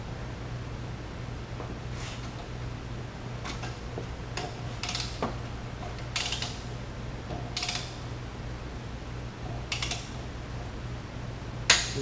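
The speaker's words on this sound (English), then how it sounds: "when you're using a torque wrench, use it by the handle out here on the end, because that's where the leverage is coming from" A torque wrench clicks at intervals while crankshaft bolts are tightened during an aircraft engine overhaul, giving sharp, fairly close ticks spread across a steady low hum, with no talk.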